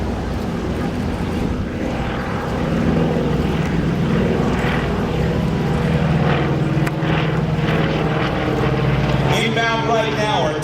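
A Beechcraft AT-11 Kansan twin-engine WWII trainer flies over a Capitol flyover event, giving a loud, continuous propeller drone with a broad engine roar. A commentator speaks over it throughout.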